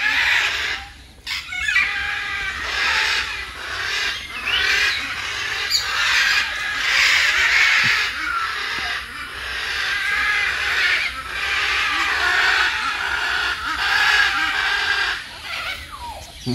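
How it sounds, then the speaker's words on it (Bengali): Macaws squawk and call loudly and almost without pause in a deer park zoo at Garchumuk near Uluberia, many harsh overlapping cries close by with no talking. "মানে গাইস আওয়াজটা এত জোরে জোরে হচ্ছে, আমি পুরো সেই মেন গেট থেকে শুনতে পাচ্ছি ম্যাকো পাখিগুলো ডাকছে।"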